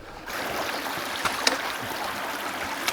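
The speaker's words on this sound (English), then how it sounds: "This water we see in this stream" A stream in Arizona flows steadily in a broadband rush of water, moderately loud and continuous, with a few brief splashes. No one speaks.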